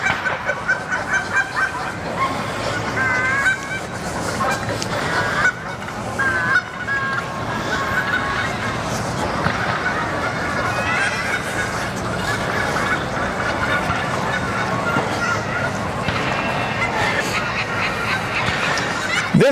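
Geese honk repeatedly and loudly outdoors during a dog-training session, their calls steady and overlapping throughout, with faint talking in the background.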